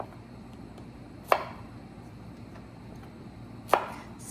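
A knife cuts through fresh garden okra on a board, giving two sharp, isolated chops about two seconds apart over a quiet room background.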